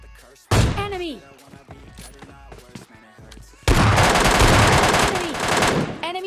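In the video game PUBG, close, loud gunfire crackles, first as scattered single shots, then as a sustained automatic burst, while someone talks over it.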